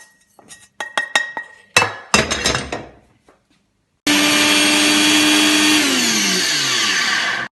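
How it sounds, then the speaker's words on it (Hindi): Garam masala spices are ground at home: a few sharp clinks and knocks as the roasted ingredients go into the grinder jar, then a loud, steady electric grinder whir that runs without a break to the end. "हम बाकी चीज़ों को पीस लेंगे"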